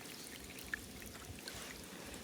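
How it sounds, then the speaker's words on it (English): Dirty water trickles steadily through a small water fountain's system, a faint, continuous flowing sound with a couple of soft drips, heard alone and close. "now dirty water is flowing through there"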